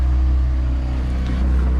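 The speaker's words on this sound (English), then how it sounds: "So we're motor sailing." A sailboat motor sailing on the engine in light wind, a steady low drone running continuously and loud throughout with water and wind noise around it.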